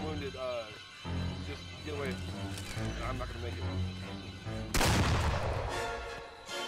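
A gunshot blast rings out in the horror video game Friday the 13th, a sudden loud burst cutting through busy game sounds while voices talk over the action.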